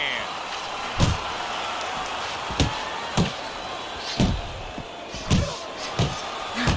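Boxing punches landing in Fight Night Champion in a Mike Tyson versus Rocky Marciano bout, about seven heavy thuds at irregular intervals over a constant crowd roar, with a commentator talking throughout.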